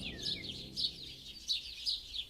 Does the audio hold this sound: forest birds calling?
yes